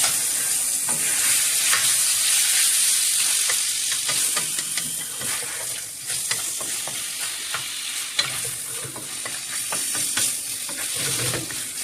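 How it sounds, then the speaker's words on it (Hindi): Large sliced onions hit a hot pan with spicy Chinese-style chicken legs and sizzle loudly, while a utensil stirs them in steady scraping and clicking strokes; no one speaks. "उसके बाद हम इसमें कटा हुआ प्याज जो है बड़े बड़े स्लाइस वो डालेंगे।"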